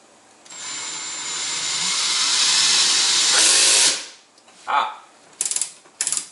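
A power drill bores through a wall into a wooden stud in a home, a long rising high-pitched whine for several seconds, then stops, followed by a few short bursts of drilling.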